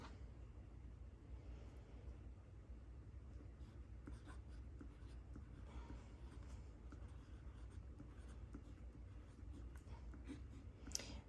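Pelikan Twist fountain pen with a medium nib and Robert Oster Rose Gold ink gliding across Rhodia paper, a faint, steady scratching that runs close and continuous with a few soft taps, no talking.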